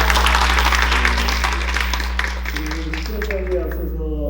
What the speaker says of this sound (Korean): 다시 한번 박수 한번 쳐드릴게요.